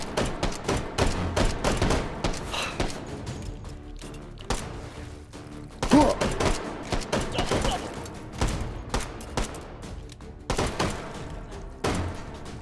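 Dense gunfire from the VR shooting game H3 fills the clip, with rapid volleys of sharp shots and thumps coming in repeated bursts, loud and close, and no talk over them.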